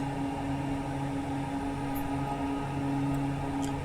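Steady droning hum of an aircraft engine in Microsoft Flight Simulator, slowing down, with a constant tonal buzz and broadband noise and no clear change in loudness.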